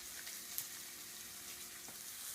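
Rib eye steak sears in melted butter in a pan, giving a soft continuous sizzle and hiss with faint crackles. The sound is fairly quiet and steady throughout.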